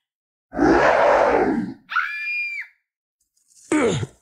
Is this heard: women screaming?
yes